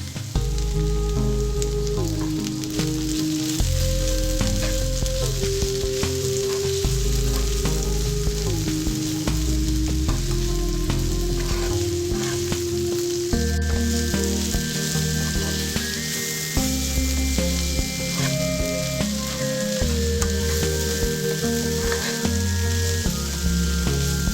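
Cluster beans (goruchikkudu) sizzle steadily as they fry in a pan, a continuous hiss that carries through the whole stretch beneath background music.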